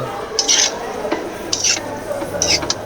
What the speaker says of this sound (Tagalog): Haluhaluin na natin uli para magpantay yung asin sa kanyang laman.